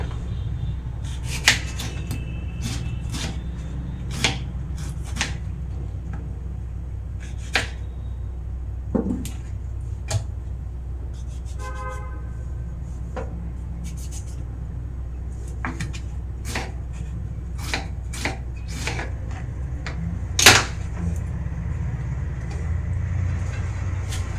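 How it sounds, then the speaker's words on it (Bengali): Fresh tomato sliced with a knife for a Bihari-style green pea chutney, giving a long run of sharp, evenly spaced taps against the board, close and clear over steady low background hum, with no talking. "টমেটোটা কেটে দেবো"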